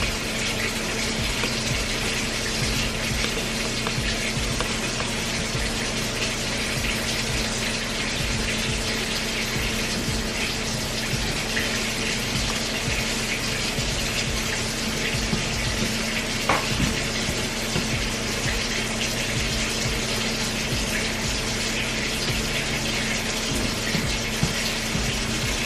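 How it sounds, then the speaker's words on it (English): Water runs steadily from a tap in a home kitchen while peanut brittle is made, a constant broad rushing flow with a faint pump-like hum beneath, unbroken and fairly loud, no voices. "That's water running in the background"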